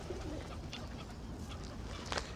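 Pigeons cooing in Stanley Park, Blackpool, soft, low cooing calls over a steady outdoor background hiss, faint and somewhat distant.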